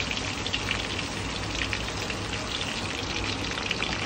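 Mackerel fish deep frying in oil, with a continuous close hiss and crackling spatter that stays even and loud throughout, resembling a downpour.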